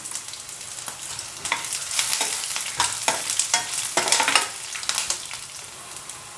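Onions fry in a pan with curry leaves and tamarind, a bright crackling sizzle broken by repeated scraping stirs that swell and fade every half second or so, close up and alone.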